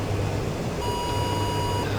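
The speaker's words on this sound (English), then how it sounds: "Got a higher pitched beep indicating the hawk sights somewhere ahead to the front" A high-pitched steady electronic beep warns of a Hawk SAM site ahead in the DCS Viggen flight simulator; the single tone starts partway in and holds for about a second over constant low cockpit and engine rumble.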